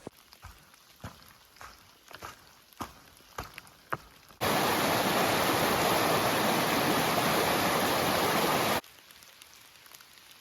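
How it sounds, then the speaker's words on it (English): Steady heavy rain in a forest beneath tree cover, a dense wash of noise that comes in abruptly, holds loud for several seconds and cuts off, with quieter patter and scattered drips on either side. "It's to be expected, it's raining."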